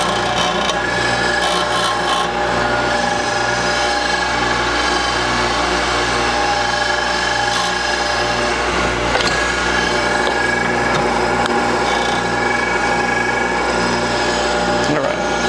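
A valve grinder resurfaces Subaru EG/EZ3X engine valves, giving a continuous loud rasping whine with a steady mechanical hum underneath, unbroken throughout.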